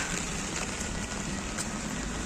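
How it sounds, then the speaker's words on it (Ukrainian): Steady rain falling in Rome on a gloomy December day, a dense, even hiss of drops on surfaces with no letup, heard alone and fairly close. "Рим, ось така дощова погода."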